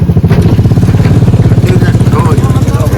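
A motorcycle ridden over potholes on a road, its engine chugging loud and close in a steady pulsing rhythm, with rough jolting noise and a voice talking over it.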